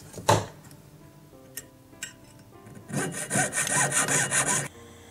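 A jeweler's saw cutting away metal from a solitaire diamond ring setting; after a few scattered taps and clicks, a close burst of quick, rhythmic rasping saw strokes runs for about two seconds, then stops.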